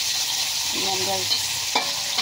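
Garlic and onion frying in a pan, a steady close sizzle with light stirring and scraping sounds, a faint voice tone briefly audible in the background.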